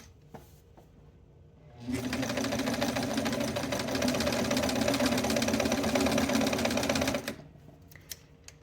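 A sewing machine stitches a kosode collar, starting after a quiet moment and running in a fast, continuous mechanical whir for about five seconds before stopping, close and loud.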